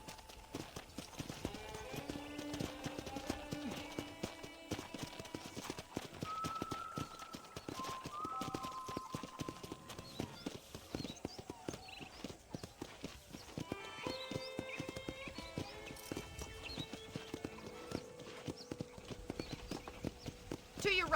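Horse hooves clip-clop at a steady riding pace in the video game Red Dead Redemption, a continuous rhythmic clatter running the whole time beneath spoken dialogue and a few tonal musical or voice-like lines.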